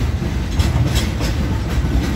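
A steam train on the Frisco Silver Dollar Line rolls along the rails with a heavy low rumble and rhythmic wheel clatter, close and steady throughout.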